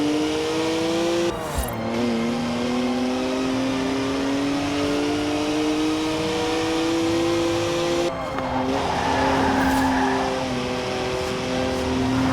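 A rear-wheel-drive BMW with 50-50 weight distribution drifts in Forza Horizon 4, its engine holding a steady high drone throughout. Brief bursts of tire squeal break through near the start and again toward the end.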